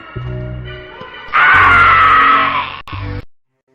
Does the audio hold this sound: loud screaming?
yes